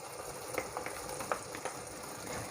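Soft steady sizzling of masala paste frying in a pan for Kerala-style chicken curry, with occasional faint pops and stirring scrapes, fairly quiet.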